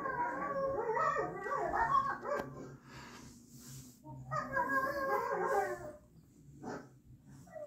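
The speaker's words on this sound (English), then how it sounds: "Okay, here's bark like a dog." A smart speaker plays recorded dog sounds, two bursts of barking and yelping at moderate volume separated by a pause, with a short sharp yip near the end.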